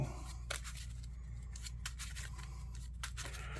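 Marvel Champions playing cards being shuffled by hand: quiet, rapid papery riffles and snaps recurring throughout, close and soft, with no talking.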